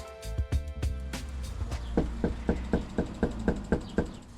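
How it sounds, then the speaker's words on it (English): Knocking on a door in Yakima, a few scattered loud raps and then a steady run of about ten even knocks, close and clear with no talking. "The sun is beating down on us as Giovanni Severino and I are door knocking in Yakima"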